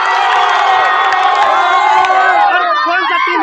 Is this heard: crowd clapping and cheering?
yes